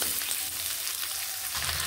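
Potatoes frying in oil in a pan while being stirred, a steady close sizzle with soft scraping, no voices.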